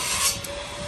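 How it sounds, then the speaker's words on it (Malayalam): A dust-free cutting machine cuts into a wall during electrical work in Malta, giving a continuous close abrasive grinding rasp layered with a steady motor whine. "പൊടി ഇല്ലാണ്ട് കട്ട് ചെയ്യണ മെഷീൻ വെച്ചിട്ട്."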